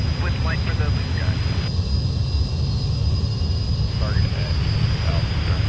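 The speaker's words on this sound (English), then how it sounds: "pretty nice start-up sounds from the aircraft overall" An F-4 Phantom II jet engine spools up during start-up in a flight simulator game, a loud steady whine and roar that stays constant under faint speech.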